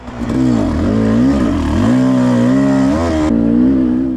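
Off-road race motorcycle engine revving hard on the throttle at a muddy track race, a loud close buzzing drone whose pitch rises and falls with the twist of the throttle, continuous throughout.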